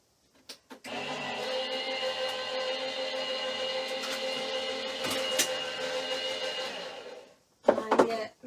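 Die-cutting machine straining as it pushes a gift card holder die through, a steady loud mechanical whir and grind held for several seconds, then stopping, with a few clunks afterward.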